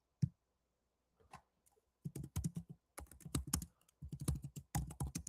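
Someone types a search query on a computer keyboard: a few isolated taps, then quick bursts of close, crisp key clicks in uneven rhythm, with no voice over them.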